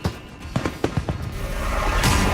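Fireworks in a radio ad give off a quick series of sharp pops and crackles, then swell into a louder, sustained rumbling burst at the end.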